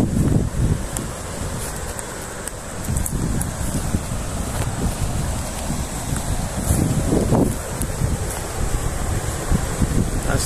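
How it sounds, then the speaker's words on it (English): Strong gusting wind buffets the microphone at a riverside campsite in the Peak District, a loud roaring rush with swelling bursts and no voices. "It's windy."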